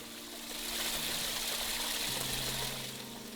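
Fresh, clean water trickles steadily in a stream, a continuous bright babbling wash that holds constant and fairly close throughout, with no voices.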